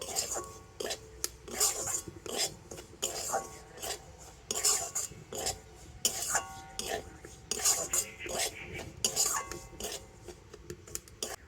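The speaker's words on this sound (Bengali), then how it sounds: "তো ঘিয়ের সাথে সুজিটাকে একটু হালকা করে ভেজে নেব।" Semolina being stirred while frying in ghee, heard as repeated rasping scrapes of a spoon against the pan in short bursts, close by, with faint clinks between strokes.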